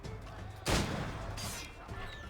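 Gunfire in the Assassin's Creed Rogue video game sounds as a single sharp blast rising over a noisy, rumbling background, followed by a sustained wash of sound.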